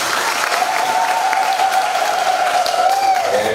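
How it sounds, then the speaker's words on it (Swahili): An audience applauds the governor at a public function, with continuous crowd clapping throughout and a sustained whistle-like tone running over it. "Pige gavana makofi."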